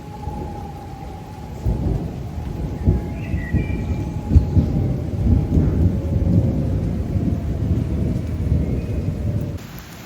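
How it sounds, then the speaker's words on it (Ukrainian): Steady rain falls outdoors during a stretch of flooding in Germany, with thunder rumbling through the downpour and a constant broadband hiss of drops hitting surfaces, fairly loud and without speech. "І в нас знову дощ."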